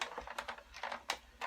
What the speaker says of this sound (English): and just die cut through